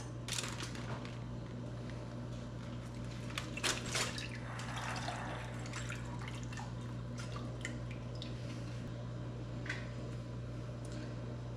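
Juices from smoked ribs are poured and trickle into a container so the fat can separate, a quiet dripping and splashing over a constant low background hum, with scattered sharper splashes near the start.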